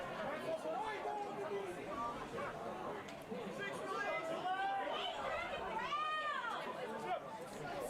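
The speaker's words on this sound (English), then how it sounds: "You can hear the crowd starting to get a little vocal" Crowd at a Tamworth versus Barbarians New England rugby union match, a steady roar of chatter and shouting voices from the stands with occasional whistling calls, sustained and moderately loud throughout.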